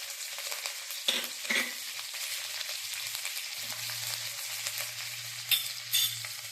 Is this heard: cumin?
yes